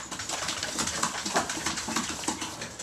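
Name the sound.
guinea pigs trying to climb the cage ramp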